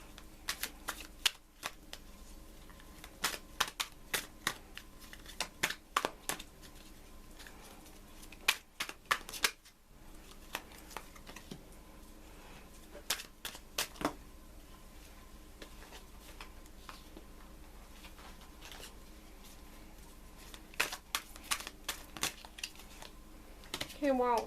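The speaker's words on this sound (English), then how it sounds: "We're going to be shuffling on camera." Tarot cards being shuffled by hand during a pick-a-deck reading, a series of brisk papery riffles and flicks in short bursts with quiet pauses between, close and fairly soft, no talking.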